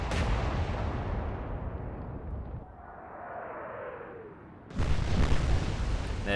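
Royal Navy warship guns fire in the naval battle video game Atlantic Fleet, Battle of the Atlantic: a heavy, rumbling blast fades into a descending whistle, then a second loud boom crashes in near the end.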